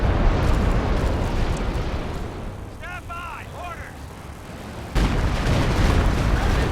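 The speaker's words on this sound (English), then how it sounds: "heavy artillery is going to start landing around us here" Heavy artillery shells land in the Company of Heroes 2 battlefield, booming amid a dense, roaring wash of combat noise with a brief high whistling stretch midway before the rumble surges back.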